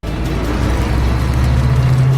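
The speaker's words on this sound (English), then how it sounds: "They then left in a car." A car drives away under a steady, loud engine drone and road rumble, with the engine note rising slightly toward the end, set as a film sound effect.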